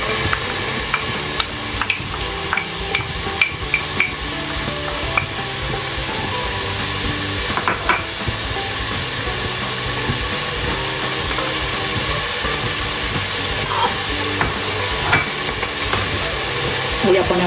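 Onion sautéing in olive oil for Moroccan harira, giving a steady, close sizzling hiss with occasional light stirring clicks throughout, without any talking.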